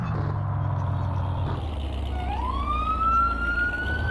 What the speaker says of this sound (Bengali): আমরা সাইরেন দিয়ে দিয়ে